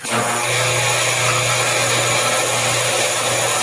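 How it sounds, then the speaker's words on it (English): Vacuum pump on a photographic contact printer's vacuum frame drawing air out, a loud steady whine and hum starting abruptly and running continuously, with no talk. "that's a vacuum pump that you'll hear it, and it sucks all the air out"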